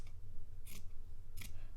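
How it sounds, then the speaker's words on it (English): Scissors snip through fabric and wadding close to a stitch line, two crisp cuts about half a second apart over a steady low background hum. "Just take your scissors, I'll turn that a little bit round, and snip it quite close to your stitch line"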